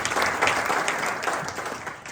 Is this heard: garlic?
no